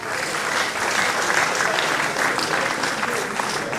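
Sustained, even applause from an audience honoring an anonymous donor at a lecture event, filling the whole stretch at steady loudness with no one speaking over it.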